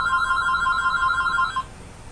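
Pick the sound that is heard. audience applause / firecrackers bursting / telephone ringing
telephone ringing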